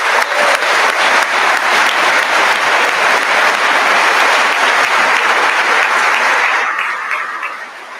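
A large university audience at a Boise State State of the University address applauds staff members, a loud, dense, sustained ovation of clapping that fills the hall for about eight seconds before fading slightly.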